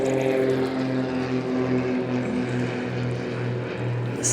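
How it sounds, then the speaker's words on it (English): A propeller airplane passes overhead above an outdoor pond in Canada, a loud, steady droning engine hum with a throbbing pulse that holds throughout, with no talk. "But now I got a plane flying over."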